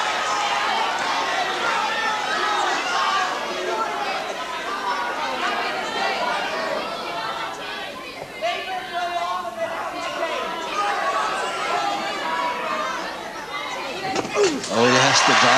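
Wrestling crowd at a 1984 UK bout between Marty Jones and Fit Finlay: a dense, steady roar of cheering and chatter from a large audience, close and loud throughout, with a sharper burst near the end.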